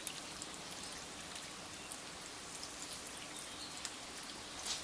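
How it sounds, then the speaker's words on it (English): Water poured into a slow cooker, a steady hissing trickle that continues for several seconds without pause, fairly faint and close. "we're just going to add a little bit of water"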